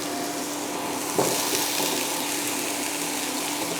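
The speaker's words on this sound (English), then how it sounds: "just fry that off until the asparagus is cooked" Mushrooms and asparagus with black beans fry in a pan in a vegan spring dish, giving a steady broad sizzle close by, with a brief stir-like bump partway through and no talk.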